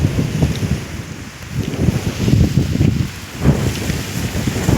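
Strong gusts buffet the microphone in rough, surging waves of low rumble that rise and fall every second or two, loud and close, with no voices.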